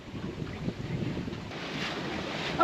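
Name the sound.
gust of wind on a sailboat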